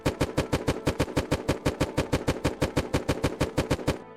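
Heartbreaker rifle with a military drum magazine firing in Unturned: a long, steady full-auto burst of about thirty evenly spaced, loud shots, ending abruptly with a faint mechanical tail.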